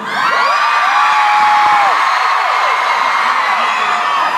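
A packed concert crowd at the first show of an Australia tour screams and cheers loudly and continuously, a dense wall of high-pitched shrieks and whoops filling every moment.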